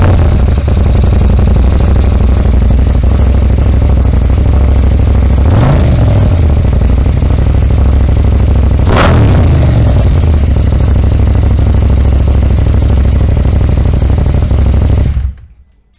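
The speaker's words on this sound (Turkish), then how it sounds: "Hazır yakalamışken egzozsuz 890'ın sesini de size dinletmek istedim." A KTM 890 Adventure R motorcycle engine idles loudly and close with no exhaust fitted, a raw steady drone broken by two quick throttle blips before cutting off at the end.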